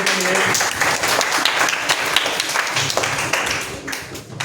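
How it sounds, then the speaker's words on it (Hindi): Students applaud during a school quiz competition for classes 6 to 8, a dense, steady burst of many hands clapping indoors at close range. "very good, Tali बजाइए"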